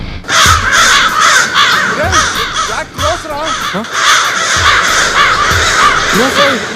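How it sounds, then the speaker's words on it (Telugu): A flock of crows caws loudly and continuously in a comedy fight scene, many harsh overlapping calls repeating close by with voices mixed in underneath. "రే కాకులు దిగుతారా?"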